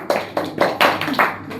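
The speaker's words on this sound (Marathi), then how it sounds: "जोरदार टाळ्या होऊ दे" Rhythmic clapping at a lucky draw as a winner of a juicer mixer is announced, five distinct bursts of hands striking in steady succession, fairly close and bright, with no voices over it.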